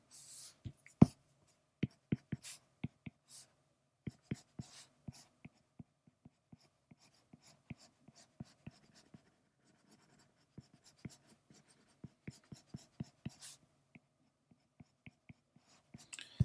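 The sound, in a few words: pencil drawing on paper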